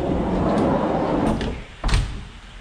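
A Volkswagen Kombi van door swings and shuts with a solid thump near the end, preceded by rustling movement and a low background rumble.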